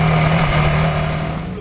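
A Ducati 1199 Panigale sports motorcycle brakes hard from nearly 300 km/h at the end of a straight. A loud engine and wind roar fades gradually as it slows.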